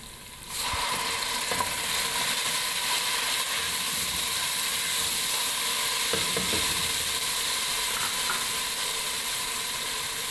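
Tomato puree is added to onion, garlic and ginger already frying in a pan, and the mixture sizzles and hisses steadily and fairly loudly, with occasional stirring scrapes and no talking.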